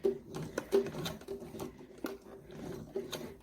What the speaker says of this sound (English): I'm just going to hand crank, or I'll slowly do a couple stitches.